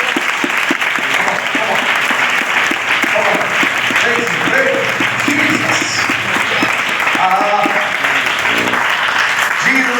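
A church congregation claps loudly and steadily throughout, a dense wall of applause with rhythmic hand beats and some voices mixed in.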